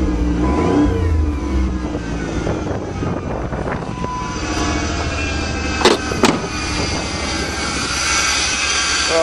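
A 1992 Plymouth Voyager van's engine idling after its first startup in years, a close, steady running drone with a high alternator whine and a couple of sharp clanks partway through, no voices.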